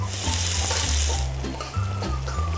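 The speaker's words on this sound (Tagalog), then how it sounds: "Dahil mainit na ating mantika, ilagay na natin ang ating bawang." Garlic sautéing in hot cooking oil and being stirred, a steady close sizzling hiss with scraping stir motions over a low background hum.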